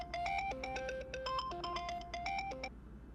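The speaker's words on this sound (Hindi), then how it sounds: "आशा की कॉल है।" A mobile phone rings with an incoming call inside a Pakistani drama scene: a bright melodic ringtone of repeated tonal notes plays steadily for about three seconds, close and clear, over a low background hum, with no talking.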